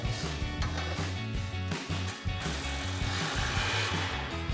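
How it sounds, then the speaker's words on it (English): An impact wrench with a 17 mm socket tightens an exhaust clamp on a resonator delete pipe under a 2015-2020 Ford F-150 SuperCab, rattling in steady loud hammering bursts with short pauses between them. "we're going to tighten our clamp down with our 17 millimeter socket on our impact"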